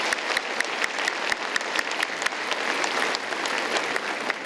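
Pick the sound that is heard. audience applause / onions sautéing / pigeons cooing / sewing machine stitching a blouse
audience applause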